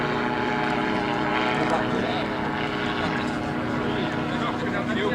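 A Thruster ultralight aircraft flies overhead at an airshow in Pontlevoy, its propeller engine droning steadily at mid distance while an announcer and crowd talk underneath.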